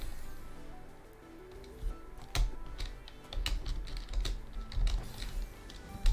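Computer keyboard typing during a 3D Celeste platformer: dense, irregular clicks and taps close by with some sharper louder strikes, and no voices.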